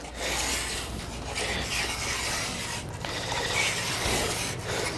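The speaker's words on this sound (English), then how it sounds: "So I just like to work my way down, shorter strokes. And then I'll take a little bit of longer stroke." A carbide edge tool scrapes along a ski's steel side edge in a string of short, rasping strokes, close and steady, with brief pauses between passes and no talking.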